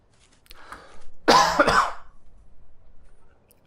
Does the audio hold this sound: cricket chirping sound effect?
no